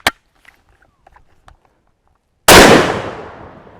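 A lightweight Baikal MP-18 shotgun fires a slug at a paint can on a range: one loud, sharp blast with a trailing decay, preceded by faint scattered ticks and shuffles.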